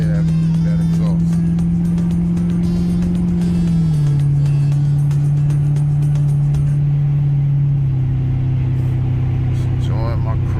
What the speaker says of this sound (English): Y'all ride with me so y'all hear that air, y'all hear that exhaust.